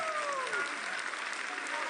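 A wrestling crowd at a KJ Orso versus Ricky Sosa match claps and cheers in a brief, steady burst of applause, with a commentator's voice running over the noise.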